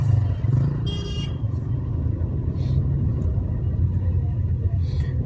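A car with a manual clutch turning right, a steady close engine rumble throughout, with faint brief hissy bursts and road noise over it.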